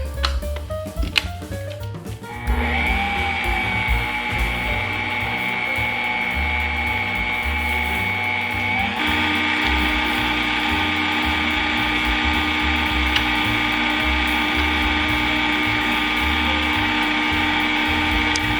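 An electric mixer whirs through cake icing with a few drops of colouring, starting with clattering bumps before settling into a continuous motor whine that shifts slightly in pitch midway and runs on steadily, close and fairly loud.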